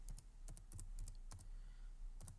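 Quiet clicking of a computer keyboard while a COUNTIF formula is typed into an Excel spreadsheet, a handful of quick separate keystrokes in short clusters over a low steady hum.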